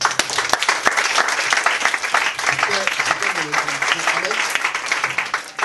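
A church congregation applauds and cheers in praise of God, dense steady clapping filling the room with voices calling out over it throughout.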